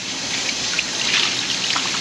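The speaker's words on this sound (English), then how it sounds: "We still got a lot of meat to rinse. Just rinse it." Alligator gar fish meat being rinsed under running water, a steady close trickle and splash of liquid with small spattering bursts throughout.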